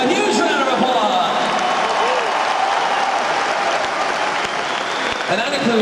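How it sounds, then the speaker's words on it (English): A large arena concert crowd at a show applauds the road crew with dense, sustained clapping and cheering, with scattered whoops and a voice over the din. "So please give every member of our crew a huge round of applause."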